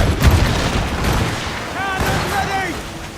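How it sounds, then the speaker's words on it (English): Naval battle noise in Assassin's Creed Rogue, with booming ship cannon fire rolling under shouted voices, a rapid volley of blasts blending into a dense rumble, with whistling tones overhead. "They're firing a volley!"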